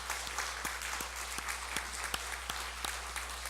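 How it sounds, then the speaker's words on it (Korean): A church congregation claps together during a Sunday worship service after a sermon on the resurrection, a dense steady patter of many hands with sharper individual claps, moderately close and continuing without talk. "하나님 앞에 우리 한번 영광의 박수를 올려드리겠습니다"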